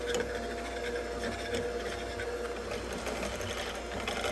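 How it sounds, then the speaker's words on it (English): An electric whisk on very low speed mixes muffin batter of flour, powder and eggs, giving a steady, continuous motor whir with a faint rattle throughout, close and without speech. "I will be switching to a whisk, and on very low speed I'll start whisking the ingredients."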